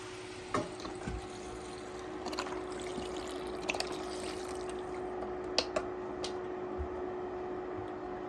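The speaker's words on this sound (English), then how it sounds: "I'm going to take 1 box of chicken stock and I'm going to add that to the pan." Chicken stock poured from a box into a pan makes soft intermittent trickles and splashes, close and fairly quiet, with no talking.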